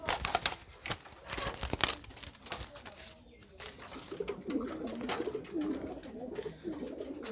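Pigeons of foreign breeds coo softly nearby at a rearing farm, low murmuring calls mixed with rustling and crinkling sounds, with faint background noise and no clear speech.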